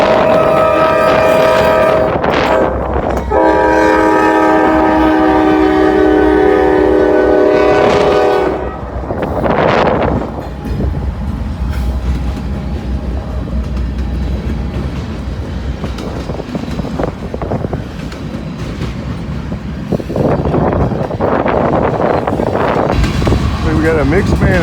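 Mixed manifest freight train passing on a windy day, with a loud horn blast early on, then rumbling railcars and clickety-clack of wheels rolling past nearby under gusting wind.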